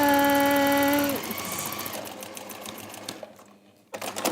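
A sewing machine runs fast and steady as it stitches fabric for a textile project, loud and alone at first, then slows and stops, leaving quieter handling noise before a short burst of stitching resumes.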